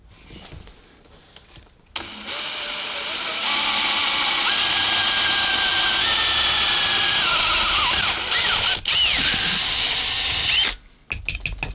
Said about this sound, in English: Let's drill this one first